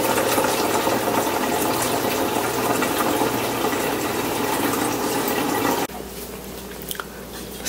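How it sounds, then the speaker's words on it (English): Cold water gushes steadily from a Brio water dispenser, a loud continuous rush that cuts off abruptly near the end, leaving a faint low hum. "I'm gonna drain the cold water first for 1 gallon"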